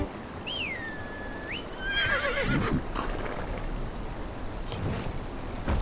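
A horse whinnies once, high and wavering, then snorts and neighs again in the Game of Thrones Kingsroad video game, followed by soft hoof steps and ambient outdoor noise.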